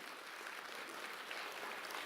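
A church congregation applauding during a Sunday sermon, with steady, even clapping from many hands in a large room, heard at a distance and fairly soft.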